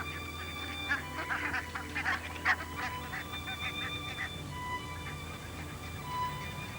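Wild swans and geese on the Swan Lake at Slimbridge give a steady chorus of honking and calling, several birds overlapping at moderate distance, louder bursts rising and falling over a quiet outdoor background.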